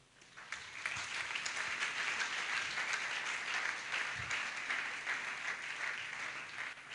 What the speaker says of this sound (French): J'aimerais que tu applaudisses pour toi-même.